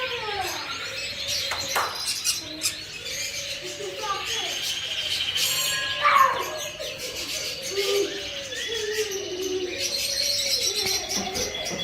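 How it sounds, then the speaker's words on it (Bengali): Birds in an aviary in Belgium call, with pigeon-like coos and scattered chirps and tweets carrying through the space, while people talk nearby over the calls. "দেখো বিভিন্ন প্রকারের পাখি এখানে"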